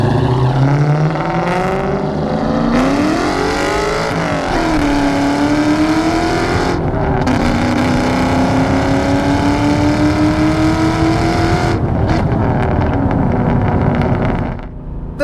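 A 2004 Ford Mustang Mach 1 with a 4.6 V8 and five-speed manual pulls hard through the gears, its engine note climbing loudly and dropping at each shift under steady wind rush, with no talking.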